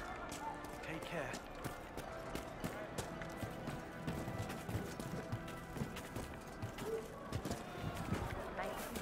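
Rapid rhythmic hoofbeats of a galloping horse in the video game Dragon Age: Inquisition run continuously at moderate volume, with faint background sounds and occasional voices.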